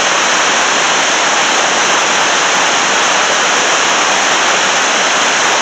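River water pours over a spillway in a dense, unbroken roar that holds loud and even throughout, close by, with no voices.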